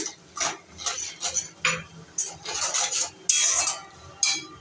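Onions frying in a pan are stirred with a utensil, giving repeated close scraping and clinking strokes in an uneven rhythm over a faint sizzle.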